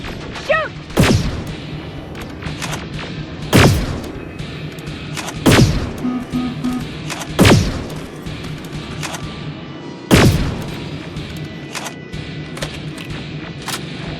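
Gunfire in the shooter Terminator Resistance during a firefight against a machine carrying a plasma rifle: five or six heavy, loud shots spaced a couple of seconds apart, each with a booming tail, over a low mechanical drone.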